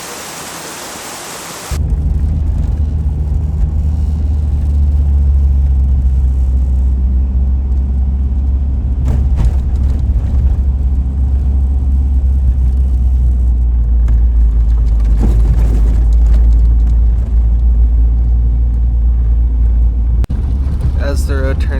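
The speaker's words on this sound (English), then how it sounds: "it's a slow first and second gear drive" A Honda CR-V creeping in first and second gear along a dirt road toward a snowy Mt. Baker camp spot, giving a steady low rumble of engine and tire noise inside the cabin that carries on throughout.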